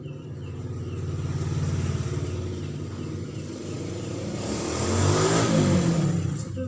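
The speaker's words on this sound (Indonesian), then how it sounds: "ada suara motor yang mungkin banyak yang lewat." Motor engines drone and rev past at close range, the noise swelling as vehicles go by, with no talking.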